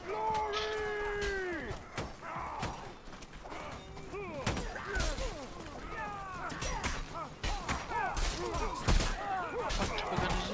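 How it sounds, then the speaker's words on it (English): Explosions and impacts in the medieval combat game Mordhau, a rapid run of sharp blasts and thuds scattered through the stretch, under excited voices talking. "Oh my god, explosions."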